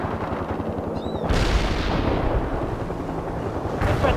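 An artillery barrage lands in the World in Conflict strategy game, a heavy rumbling wash of blasts that swells abruptly and rolls on loudly, with a fresh surge at the very end.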